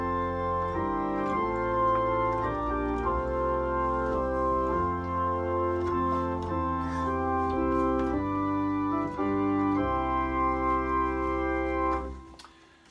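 The hymn tune Crimond, a setting of Psalm 23, played on an organ as sustained, chord-by-chord harmony at a slow, steady pace. Smooth, full and even, with no voices.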